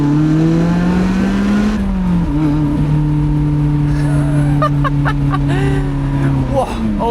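A damaged Lotus Elise sports car drives with a steady, droning engine note that dips as it shifts gear, then holds a high cruise, with a voice talking over it near the end.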